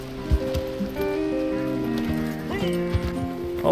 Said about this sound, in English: Finally, my horse is coming.